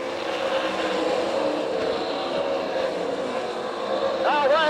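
Sprint cars from the All Stars series race in a heat at Tulsa, their engines a steady, distant roar blended with crowd and track ambience, with an announcer's voice running over the noise throughout.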